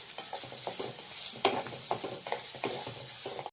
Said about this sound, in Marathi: आपल्याला खोबरं चांगलं लाल मऊ होईपर्यंत आपण चांगलं भाजून घेऊया त्याला।